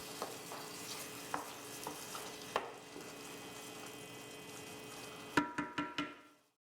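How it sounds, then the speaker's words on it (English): Kalamata olives being stirred into simmering tomatoes: a steady bubbling sizzle runs throughout, with soft spoon scrapes and knocks recurring, then a quick cluster of four sharper taps near the end before it fades to quiet. "Stir the Kalamata olives to combine."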